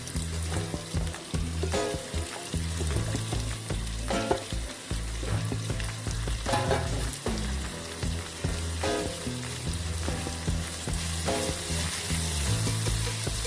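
Sliced onions for chicken samosa filling fry in hot oil, a loud, steady sizzle with close, occasional scraping and stirring clatter throughout.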